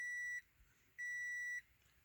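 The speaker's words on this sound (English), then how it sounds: "When you start the car up, you hear that beep." Two clear electronic beeps from a Toyota MR2 AW11 warning buzzer at start-up, a short one then a longer one, steady pitch and close, with quiet between.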